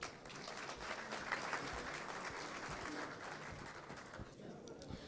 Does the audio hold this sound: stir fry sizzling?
no